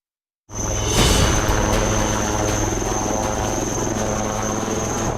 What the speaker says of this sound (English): The view from a helicopter cockpit